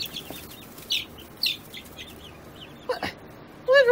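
Chickens kept indoors with a possible rooster among them give scattered short clucks and chirps, close and distinct, with quiet gaps between calls and a louder burst of clucking near the end.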